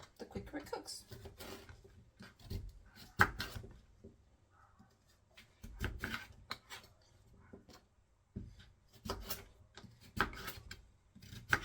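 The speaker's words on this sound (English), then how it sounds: "Just give it a rough chop." A knife roughly chopping sweet potato on a board, sounding as irregular clusters of close, sharp knocks separated by pauses, heard beneath a person talking.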